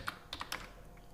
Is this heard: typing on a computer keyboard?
yes